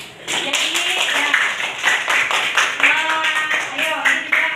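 A classroom group claps together in applause, a dense run of quick, fairly close hand claps lasting several seconds, with voices of children talking and calling out over it.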